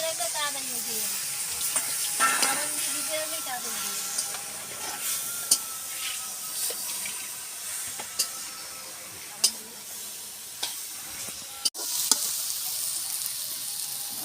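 Cabbage and tomatoes fry in a pan with a steady soft sizzle, punctuated by occasional sharp clicks and stirring scrapes; faint voices linger underneath.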